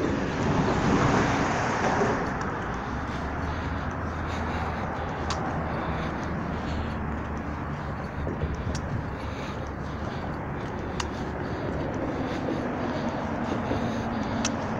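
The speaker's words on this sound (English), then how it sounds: "This overpass above us, it's Paradise Road traffic" Steady, continuous road traffic roars by on the Paradise Road overpass in Las Vegas, a broad rushing wash of passing vehicles heard from below, fairly loud and unbroken, with a few faint sharp clicks.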